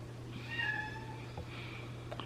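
A pet cat gives two drawn-out meows in a quiet room, the first one longer and louder. A steady low hum runs underneath, a few small taps and thumps follow, and no one talks.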